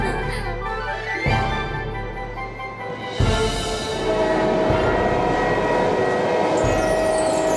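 A cartoon flying train at an amusement park rumbles with a steady mechanical roar, sharp bursts and a rising whoosh partway through. A sustained horn-like tone carries on into the end, loud and close.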